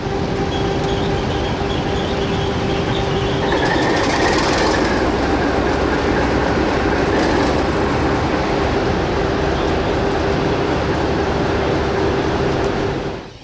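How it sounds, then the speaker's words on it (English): Two diesel locomotives, DG 772 and DI 1102, haul a goods train at dusk on a heritage railway, rumbling steadily and loud throughout with a sustained engine drone, rising wheel noise and brief squeal, fading at the end. "DG 772 and DI 1102 continued hauling the goods train under dusk."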